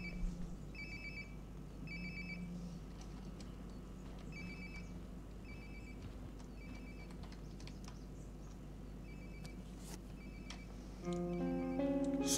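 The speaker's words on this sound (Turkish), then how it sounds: "Sonsuza kadar çalan telefon yapmışlar." A telephone rings over and over in the Life Is Strange video game, steady repeated ring bursts at moderate volume against a faint ambient background, with music coming in near the end.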